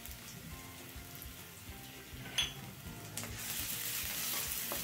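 Chopped garlic and grated ginger fry in a pan with a faint, even crackling sizzle over a low background hum, one brief clink midway, and the sizzle growing slightly brighter toward the end.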